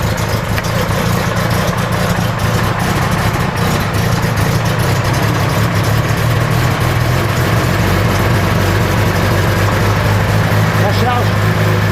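A Talbot Lago T150C engine runs steadily at a low, rough idle, a loud continuous rumble close by, with people talking over it.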